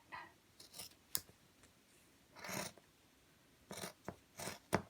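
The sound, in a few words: cutting cloth fabric with scissors along a pattern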